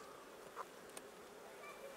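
Bees in an opened beehive during frame handling, giving a faint, steady insect buzz with a brief louder pass of a single bee near the middle.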